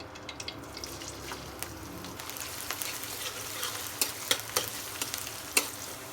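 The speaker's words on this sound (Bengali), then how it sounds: "তেল গরম হয়ে গেছে তেলের উপরে আমি পেঁয়াজ দিয়ে দিব" Onions frying in hot oil in a kadai, crackling sizzle with scattered sharp pops and spatters that grow louder toward the end, close and alone without speech.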